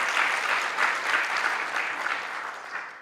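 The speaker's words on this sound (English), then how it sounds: "A round of applause to all of you." Audience applause at a college policy conference, a dense, steady clapping from a crowd that carries on for a few seconds before tapering off.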